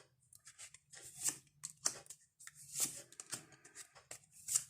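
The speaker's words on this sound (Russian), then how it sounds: "Достанем сразу дополнительные карты из цыганской колоды." Cards from a Gypsy tarot deck are drawn and laid out, giving repeated soft papery slides and crisp flicks in an irregular rhythm, close and quiet, with no voices.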